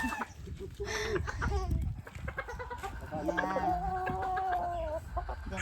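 Several game farm chickens cluck and squawk close by in a busy, irregular chatter, with a rooster-like call drawn out in the middle.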